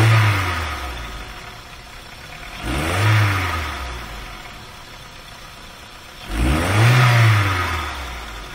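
A VW A3 2.0L engine with a power fault revs up three times, each surge climbing and then sagging as the engine bogs and cuts out, the engine close and loud with no talking.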